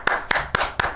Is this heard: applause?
yes